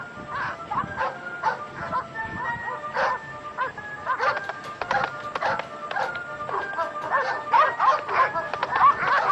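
A pack of hunting dogs yips, whimpers and barks in overlapping bursts, fairly close and continuous, with shrill whining cries running throughout.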